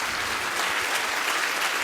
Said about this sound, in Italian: Intanto un bel applauso per il coro polifonico di Azzara